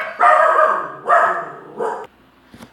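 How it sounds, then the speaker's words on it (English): A dog barks loudly nearby in three bursts, the last shorter, followed by a faint yip, with no talking. "sorry for the barking"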